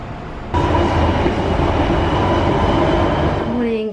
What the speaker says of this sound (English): Look at how empty the train is.